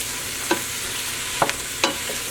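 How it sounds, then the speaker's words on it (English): Onions cooking down toward caramelizing for French onion soup, stirred with a flat spoon. A low sizzle runs underneath, broken by three distinct scraping strokes spaced apart. "You want to cook them down to get them to caramelize."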